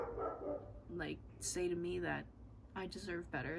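A dog barks and yips indoors in several short bursts, fairly faint, mixed in under a person talking.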